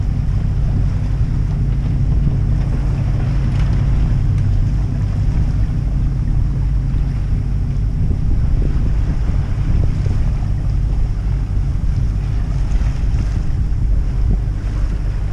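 A steady low engine drone blends with wind and water noise, holding constant throughout with no voices, as a motorboat passes at some distance in fog off the Calabrian coast near Crotone.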